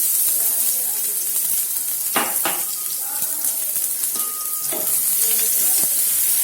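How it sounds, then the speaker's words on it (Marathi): Crushed garlic sautéing with cumin in a pan, a moderate steady sizzle with a couple of sharp stirring clatters near the middle and a voice talking lightly over it. "आता लसूण छान परतून घेऊ"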